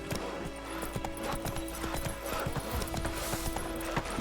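Roach, Geralt's horse in The Witcher 3 game, gallops with quick, rhythmic hoofbeats drumming steadily on the ground, close and even-paced, with faint background ambience.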